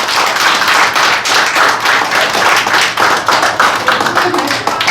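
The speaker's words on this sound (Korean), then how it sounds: "다시 한번 큰 박수 부탁드립니다" An audience at a Korean election-integrity organization launch event claps loudly and steadily, dense close applause filling the room throughout.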